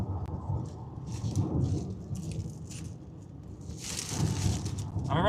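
A heavy Oklahoma thunderstorm, with low rolling thunder and steady rain, rumbles on through the clip, building into a louder burst of rain noise near the end.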